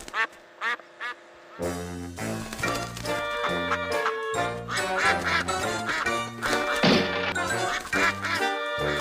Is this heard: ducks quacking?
yes